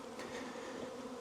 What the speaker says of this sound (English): when you get flying bees in the air like that